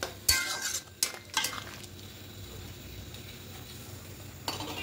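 Metal spoon clinks and scrapes against a pan while poppy seed and green chilli paste is mixed into potato and drumstick curry, a few sharp knocks early, then soft stirring over a low simmer.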